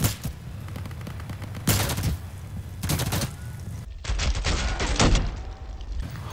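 Rifle fire in the video game Insurgency: sharp, loud single shots spaced about a second apart in semi-automatic, each with a brief tail, over steady in-game background noise.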